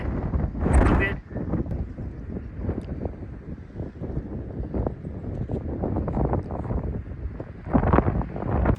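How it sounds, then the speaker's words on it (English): Strong mountain wind on the Appalachian Trail buffets the microphone in loud, low rumbling gusts that swell and ease irregularly, with brief voices caught among the bursts. "It's so windy."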